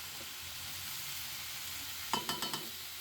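Vegetable bhaji fries in a pan with a soft, low sizzle that holds steady. Near the end a quick run of four light utensil clinks rings out over it, with no talking.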